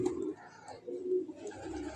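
Pigeons coo softly in low rolling phrases, faint and close, repeating several times against a quiet background.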